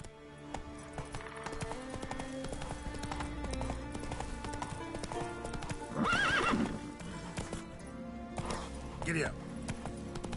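Horse hooves gallop in a steady clip-clop rhythm across the whole stretch in The Witcher 3, over game music, with a loud neigh partway through and a shorter whinny near the end.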